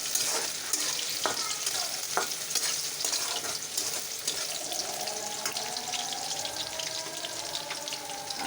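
Food sizzles and fries steadily in a pan on a home stove, with scraping stirs and occasional clinks of a utensil, plus a brief run of tap water in the background.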